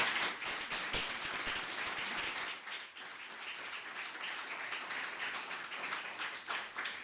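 Conference audience applauding, a dense, sustained clatter of many hands clapping at once, fairly even in loudness and fading slightly partway through.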